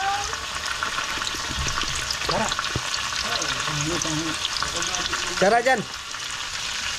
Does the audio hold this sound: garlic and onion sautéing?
yes